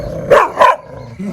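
A dog barks twice in quick succession, loud and close, then falls quiet.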